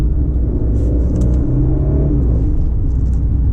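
A 2019 Genesis G90 3.3T in sport mode pulls under full throttle, its engine a loud, steady low rumble and rising whir heard from inside the cabin.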